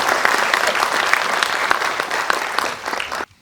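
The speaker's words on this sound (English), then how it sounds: "A big round of applause for." At a CSR summit, an audience applauds with dense, steady clapping and crisp individual claps, then stops abruptly into near silence.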